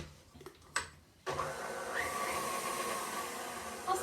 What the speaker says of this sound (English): my whisk attachment back on here, and we can get this going again